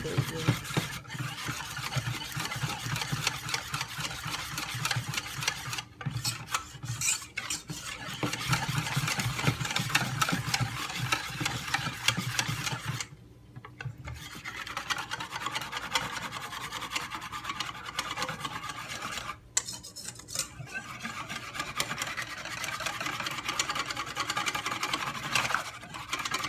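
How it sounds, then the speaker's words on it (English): Crepe batter with olive oil is mixed in a bowl, producing continuous close scraping and rubbing strokes with a few brief pauses, fairly quiet throughout. "Mix well because olive oil doesn't really go well with the other ingredients."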